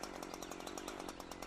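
A chainsaw cuts into a tree trunk to make a low directional notch, its engine buzzing loud and close with a rapid, steady pulsing chatter throughout.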